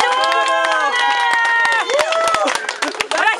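A festival crowd claps and cheers, with loud sustained shouting and whoops layered over scattered applause throughout.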